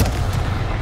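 A Confringo blasting spell in Hogwarts Legacy goes off as one short, loud, dense boom with a rumbling low tail and no speech.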